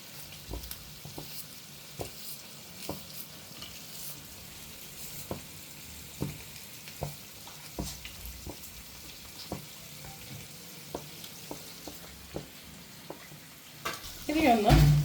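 Two sliced onions sizzling softly in a pan for a chicken roll, with regular sharp scrapes and taps of a spoon stirring them, then a louder clatter at the end.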